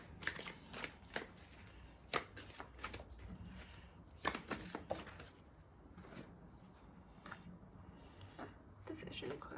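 Oversized playing cards shuffled by hand in a run of crisp riffling bursts and flicks, close and fairly quiet, with brief pauses between bursts.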